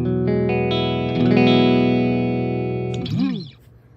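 Clean electric guitar with no Boss DC-2W Dimension C effect engaged: a series of picked notes building into a ringing chord, followed by a quick wavering slide before the sound fades.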